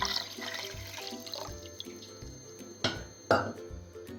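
Water splashing and trickling onto sugar in a metal pot nearby, with a few clinks of cookware and louder splashes toward the end.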